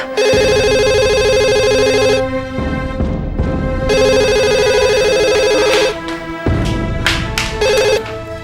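A telephone rings loudly in repeated electronic bursts, with two long rings separated by pauses and then shorter ones, sounding alone in an indoor domestic scene.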